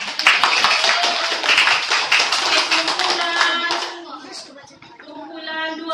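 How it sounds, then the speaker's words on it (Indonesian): Children clap their hands in a classroom activity, a loud burst of brisk, irregular claps up close that fades after a few seconds as voices take over. "Oke, tepuk tangan."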